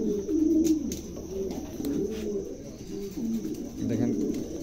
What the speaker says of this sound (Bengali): দেখেন কবুতরগুলো খুবই চমৎকার